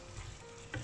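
Potatoes and capsicum frying with plenty of peeled tomatoes for aloo shimla mirch sizzle softly in a pan, with a brief stir and scrape near the end.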